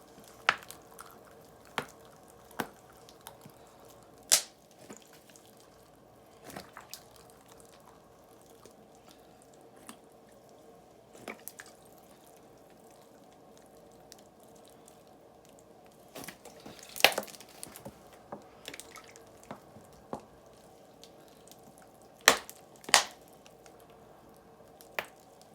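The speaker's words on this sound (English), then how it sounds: "drill some 16th inch holes in there, and then you just water in." Water poured from a homemade 2-liter plastic bottle watering can with tiny drilled holes onto seedling trays in an indoor winter greenhouse, giving soft drips and squishy splashes, scattered and intermittent over a quiet background.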